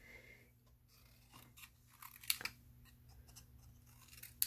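Scissors snip through fabric pieces for Christmas snippet rolls, a few faint, close crisp cuts scattered over a quiet background with no talking.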